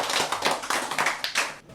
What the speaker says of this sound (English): round of applause to you